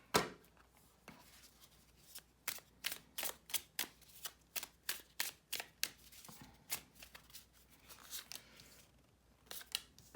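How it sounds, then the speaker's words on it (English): Tarot cards are shuffled in a quick run of crisp riffling snaps, near and clear, with a short pause before a few final flicks. "let's set the decks with an 11 shuffle"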